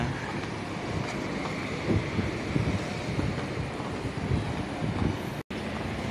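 Strong outdoor wind roars steadily and buffets the microphone on a street, a dense continuous rush with a brief dropout near the end.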